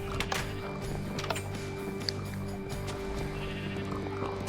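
Sheep in the video game Minecraft bleat faintly over a steady game background hum, with a few brief clicks and knocks scattered through.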